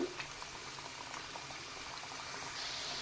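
Toast pieces frying in hot oil give a soft, steady bubbling sizzle with scattered faint pops, quiet and continuous throughout.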